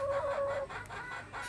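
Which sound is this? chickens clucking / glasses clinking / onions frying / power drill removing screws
chickens clucking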